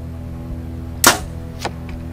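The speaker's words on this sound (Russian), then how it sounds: "Первый выстрел" A bow looses a Maximal Carbon Edge carbon arrow at 50-metre target practice: one sharp, close release snap in near-silence, followed by two fainter short taps.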